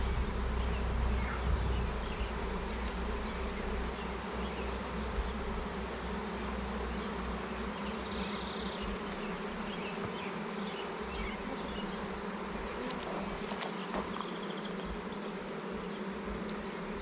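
Honeybees hum in a dense, continuous buzz during an inspection of a nuc hive, steady and close throughout with a few faint clicks and rustles.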